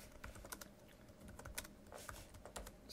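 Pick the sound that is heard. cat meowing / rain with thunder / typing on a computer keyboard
typing on a computer keyboard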